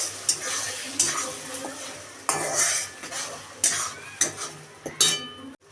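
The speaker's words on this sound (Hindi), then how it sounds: "अब इसे सारे मसालों को अच्छे तरीके से भून लेंगे" Spices with turmeric and tomato puree roasting in a pan, a spoon stirring and scraping against metal in repeated strokes about once a second over a steady sizzle, close and moderately loud, no speech.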